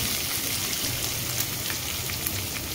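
Chopped onion fries in a pan with a dense, continuous close-up sizzle and crackle, steady in level throughout with no talking.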